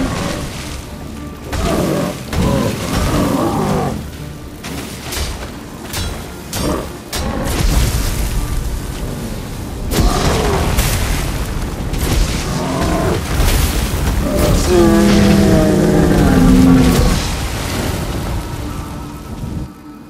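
A fire elemental in The Witcher 3 gives off a sustained, heavy roaring rumble with booming surges and crackling bursts, loud and continuous throughout, with tonal growls rising toward the end.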